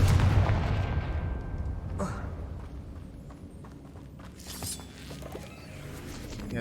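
Spell blasts from Confringo being cast in the Hogwarts Legacy video game while exploring a cave, with a loud booming burst at the start, then rumbling and crackling impacts fading under a lingering low roar.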